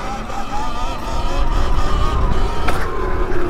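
A 72v Segway X260 electric motorcycle riding along, a steady high electric motor whine with road and wind rumble throughout, loud and close.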